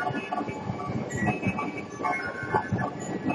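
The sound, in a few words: train passing at station platform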